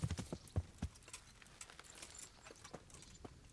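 Horse hooves clip-clop in the medieval role-playing game Kingdom Come: Deliverance, several heavy close steps at first, then slowing into lighter, scattered footfalls as the horse comes to a stop.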